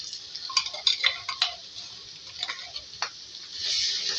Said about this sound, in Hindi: अब देखिए इसी ऑयल में मैं ऐड करूंगी अदरक लहसुन का पेस्ट